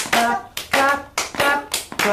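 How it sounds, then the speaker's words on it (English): Hands clapping in a bright, close rhythm, four sharp claps spaced roughly half a second apart, in a children's music and dance segment. "So we can clap our hands and make a sound."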